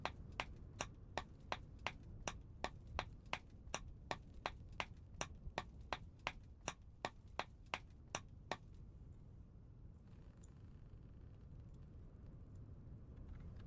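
Chiseling in the game Vintage Story: a long run of evenly spaced sharp metallic taps, about two per second, clear against a low background rumble, stopping partway through and leaving only the ambient drone.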